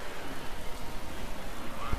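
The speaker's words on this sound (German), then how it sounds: "Der Regen ist da und das war's." Steady rain hisses in the racing management game Motorsport Manager, a soft, even wash of falling water with a faint low rumble, heard at moderate level without other distinct sounds.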